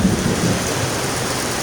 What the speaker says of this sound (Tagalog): habang papunta nga pala ako doon ay bumubuhos na rin yung malakas na ulan